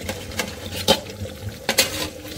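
A metal lid is lifted off a pot of chicken curry cooking on the stove, giving a couple of short clanks and scrapes over a soft background sizzle.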